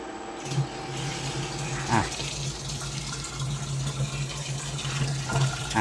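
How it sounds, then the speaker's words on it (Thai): Water pours steadily but weakly from a pump driven by a VFD inverter that is running on sagging AC-and-solar power, a continuous close gushing flow with a low mechanical hum beneath it. "น้ำก็ไหลนะครับ แต่ไหลอ่อนนะครับ"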